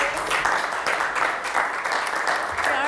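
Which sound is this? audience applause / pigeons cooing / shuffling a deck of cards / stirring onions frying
audience applause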